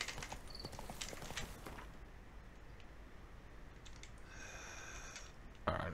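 Roach the horse's hoofbeats in The Witcher 3, a quick run of clopping steps at first, then thinning out under a steady background bed, ending with a brief louder burst.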